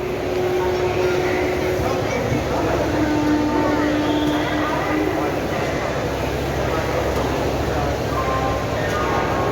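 Rumbling rail noise with screeching wheel and brake tones fills busy, crowded Howrah station, with people talking in the background throughout.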